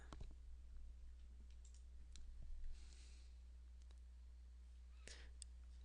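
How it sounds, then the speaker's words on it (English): A computer mouse gives a few faint, sharp clicks scattered across a quiet room hum, with a small cluster near the end. "Right click."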